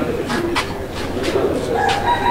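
Pigeons, a female and a male of fancy breeds kept for sale, coo softly close by in a series of low rolling calls over a steady background hum, with no talking.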